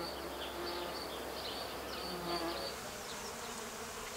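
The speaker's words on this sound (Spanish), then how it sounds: "Los insectos son los encargados de su polinización." Bees and other insects buzz steadily around flowering Brussels sprout plants, several wingbeat drones overlapping close by over an outdoor background.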